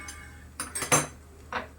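A steel bowl is lifted out of a pot of simmering green garlic kadhi, giving a few short metallic clinks and scrapes in a quiet kitchen.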